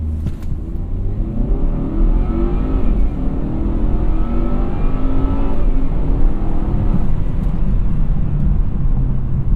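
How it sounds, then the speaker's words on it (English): A 2017 Volvo V60 Cross Country engine revs hard in a power brake launch, a loud, deep, sustained roar with rising pitch heard from inside the car, steady throughout with no voices. "Let's go ahead and power brake this bad boy."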